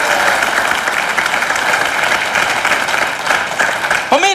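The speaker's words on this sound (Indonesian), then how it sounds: "tepuk tangan" Studio audience of an Indonesian talk show applauding in a steady, dense wash of clapping that fills the room, holding level throughout with a brief louder burst near the end.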